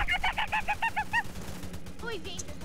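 Hens in a Roblox game give a rapid run of about eight squawking clucks in the first second, followed by a few scattered fainter calls over a low rumbling background.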